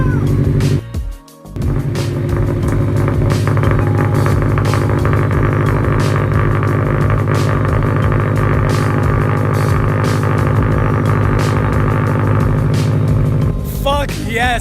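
A Subaru WRX fitted with a Tomei titanium catback exhaust fires up after a short cranking burst, then settles into a loud, deep, steady idle that rumbles on close by before revving briefly at the end.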